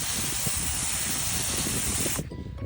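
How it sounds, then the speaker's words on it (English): A sprayer hisses out liquid fertilizer onto plants in a steady close, loud spray for about two seconds before cutting off abruptly, leaving quieter background noise. "So I'm gonna spray everything that blooms, including these blackberries"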